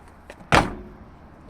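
A Renault Dauphine car door unlatches and swings open from inside with a single sharp, close metallic clunk, then quiet interior room tone.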